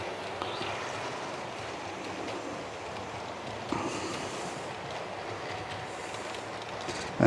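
A Class 5 locomotive on a model railway runs steadily along the track, giving a continuous light rumble and clatter at moderate distance, with a brief louder click partway through.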